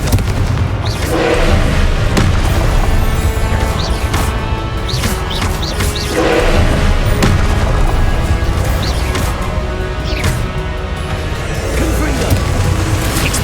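Confringo spells in Hogwarts Legacy go off again and again in loud, cracking blasts over dense, busy game noise. Splintering crashes and booms recur every few seconds, and a voice is heard now and then.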